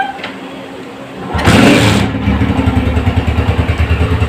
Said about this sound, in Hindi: और अब बाइक को स्टार्ट करेंगे, इसका साउंड भी सुनेंगे